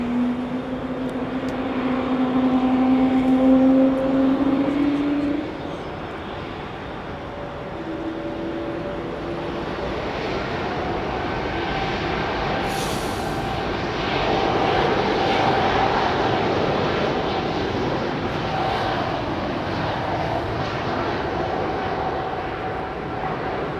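A jet airplane at London Heathrow Airport roars steadily for the whole stretch, loud and close, with a droning engine tone that swells slightly toward the end and no voices.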